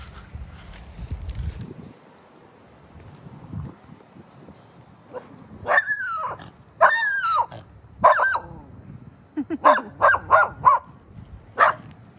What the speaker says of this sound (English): I plan to mute that dog barking at me